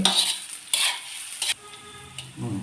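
Onions being sautéed in a pan for an aloo pithale with taro leaves: a few loud scraping stirs of a spatula over a bright sizzle, in separate bursts close to the pan.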